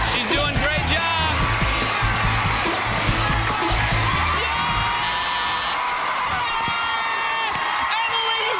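Studio audience of a game show cheering and whooping for a contestant, a loud sustained crowd roar with shouts throughout, host-style talk mixed in.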